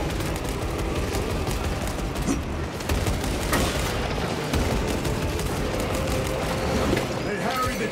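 Sustained suppressive gunfire in a Warhammer 40,000 Space Marine 2 battle, a dense continuous rattle of shots and booms with no pause across the stretch, mixed with battle noise.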